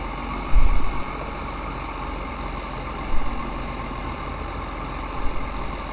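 Engine hum of a John Deere trike tractor in Farming Simulator 2013, a steady mid-pitched drone holding at an even level with a few brief louder bumps, no one talking.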